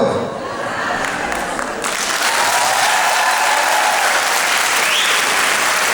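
Loud, dense applause from a large concert crowd at a Lezgin festive concert, swelling after a quieter start into a continuous roar of clapping that holds steady to the end.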